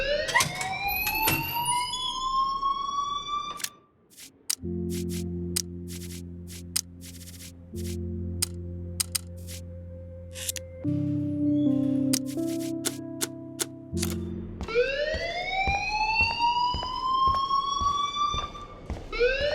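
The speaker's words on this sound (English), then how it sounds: "please turn off that alarm since that's your job" A video game alarm ringing: rising electronic whoops sweep repeatedly at the start and end, with a steady buzzing alarm tone in between, loud and continuous with no talk.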